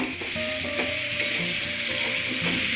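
Pumpkin for a Bengali kumror chokka sautéing in a pan with green chillies, a steady close sizzle with scraping stir strokes throughout.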